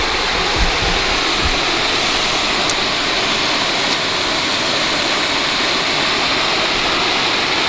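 Water spilling through a dam wall in a canyon roars as a constant, broad, close rush of falling water, steady for the whole stretch with no voices.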